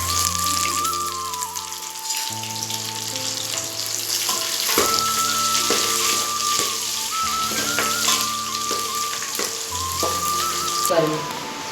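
Onions and chillies sizzle steadily in a hot pan with bay leaf and spices, a continuous loud frying hiss running throughout under background music.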